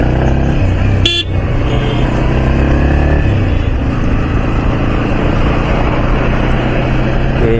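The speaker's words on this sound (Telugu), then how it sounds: "బైక్ స్టార్ట్ చేసి ఒక షార్ట్ రైడ్ వేస్తూ మాట్లాడుకుందాం" A motorcycle rides along a road, its engine a steady loud drone throughout, with traffic noise and a brief sharp horn-like burst near the start; no talking.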